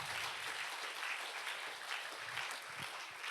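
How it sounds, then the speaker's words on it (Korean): A congregation at a Korean church youth worship service gives steady, even applause that fills the whole stretch, with no talk over it. "들어가실 때까지 큰 박수로 맞이해 주세요."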